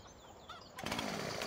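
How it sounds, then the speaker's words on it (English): A chainsaw in Farming Simulator 17, on the Pleasant Valley map, starts up partway through and runs as a loud, steady buzzing roar that continues to the end. "Chainsaw."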